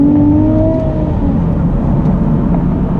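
Engine of a 2019 Nissan 370Z NISMO with a naturally aspirated engine pulling under acceleration, a steady loud drone with a rising tone in the first second, heard from inside the car with no talk.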